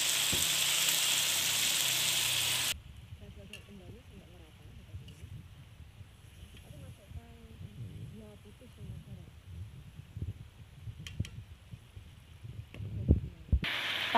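Paprika chicken sizzles in a pan with sweet soy sauce, a quiet frying hiss with faint stirring scrapes. A loud broadband burst comes at the start and again at the end, and a voice speaks over it.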